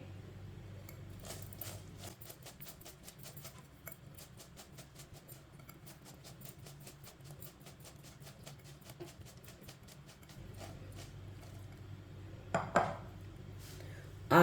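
Spices with red chilli, turmeric and coriander powder are stirred in a bowl with a spoon, giving a quick run of light, rhythmic scraping and clinking taps, quiet and close, ending in a louder knock.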